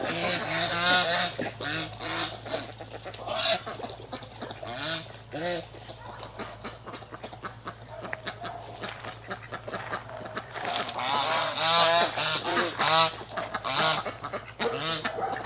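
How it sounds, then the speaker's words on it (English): Geese and ducks honking and quacking continuously while mating or fighting, close and loud, overlapping calls throughout with steady background noise. "trying to mate or they're fighting. The ducks and the geese."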